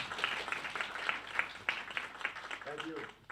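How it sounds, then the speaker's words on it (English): Scattered, faint clapping from a conference audience thanking a speaker, with sparse individual claps rather than a full ovation and some voices underneath. "You get an applause from here."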